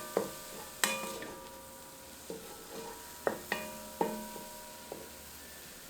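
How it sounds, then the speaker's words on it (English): Minced garlic cooking in a resonant metal pot for plant-based sloppy joes, a soft sizzle under several ringing metallic taps and scrapes from a utensil stirring against the pot. "I'm just gonna add about a teaspoon of minced garlic, and we'll just let this cook for like a minute"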